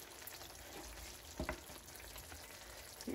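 Garlic sizzles and fries in a pan for kakarkai (bitter gourd) curry, a steady close crackle with a brief louder clatter of stirring midway and no talking.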